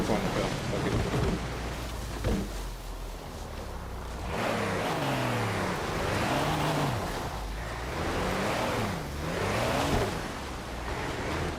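A car engine in the Forza racing game revs and accelerates repeatedly in rising and falling sweeps, loud and steady over a constant rushing background.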